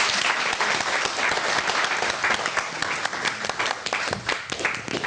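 An audience applauds for foreign students at an event, dense, steady clapping from a full hall that keeps up loudly throughout.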